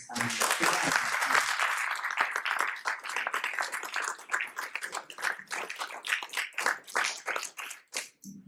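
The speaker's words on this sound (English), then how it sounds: "How about a round of applause?" Audience applause fills an evening Q&A event, dense clapping under a faint voice at first, then thinning into scattered, uneven claps before fading near the end.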